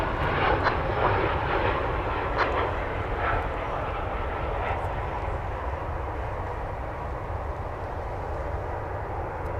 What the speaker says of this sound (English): American Flight 2155 from Mazatlan in Mexico. Airbus A380.